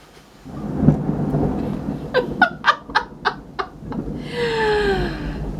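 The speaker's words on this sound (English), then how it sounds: "Thunder and lightning going on." Thunder rumbles low and heavy during a thunderstorm, a deep boom early on followed by a lingering roll, with sharp bird chirps and a rising, whistling call layered over the rumble.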